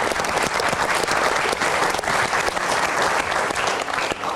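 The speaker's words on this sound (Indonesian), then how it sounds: "Kasih tepuk tangan dulu dong biar semangat menyelesaikannya." Loud, sustained applause from a studio audience on an Indonesian television talk show, a dense crackle of many clapping hands that carries on without a break.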